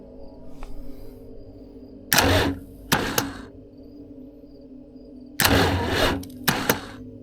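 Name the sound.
old bus diesel engine cranking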